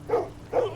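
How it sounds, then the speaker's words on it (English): Two short barks from a dog unit in Attila: Total War's Medieval Warfare mod, separate and clear with a brief gap between them and no speech. "Oh, I see their dog unit now"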